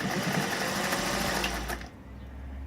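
A vintage Singer 404 sewing machine runs in a steady, fast mechanical whir with a low motor hum, stitching continuously, then stops abruptly near the end, leaving a faint low hum.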